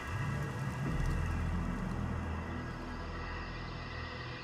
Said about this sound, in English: and it begins to rain